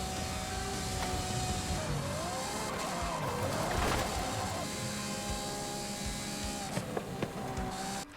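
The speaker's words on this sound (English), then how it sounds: "The Ferrari is driving well." A Ferrari race car in Forza Horizon 5 gives a fairly quiet, steady engine whine whose pitch bends up and down as it accelerates and shifts, with no talk.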